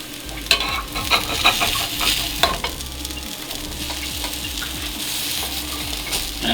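A vegan burger patty sizzles steadily in a hot pan, loud and close, with occasional scraping and stirring clatter over the continuous frying hiss and no talking.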